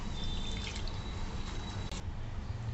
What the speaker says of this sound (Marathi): आता आपण हे सगळं स्वच्छ धुवून घेऊ पाण्याने दोन तीन पाण्याने स्वच्छ धुवून घेऊ